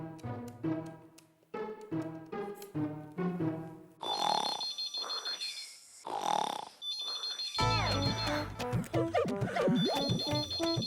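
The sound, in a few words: telephone ringing for an outgoing call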